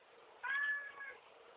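A single clear cat meow, drawn out and slightly falling at the end, close by in an otherwise quiet room, the cat asking to go outside.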